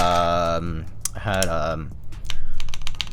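Typing on a Fox Lab Sunset 80 mechanical keyboard fitted with Polybius keycaps, a quick run of clacky keystrokes following a stretch of talk, close and clear.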